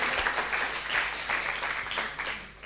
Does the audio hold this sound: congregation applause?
yes